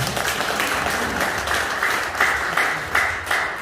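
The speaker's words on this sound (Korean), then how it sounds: "큰 박수 보내주십시오." Audience at a Korean association's annual general meeting in a party office claps loudly and steadily, a dense wash of hand claps with a few sharper bursts near the end.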